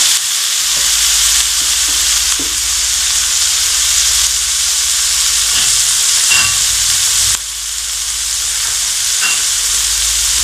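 Tomatoes being lightly sautéed in a pan for chicken Manchurian give a loud, steady sizzle and hiss with occasional stirring scrapes.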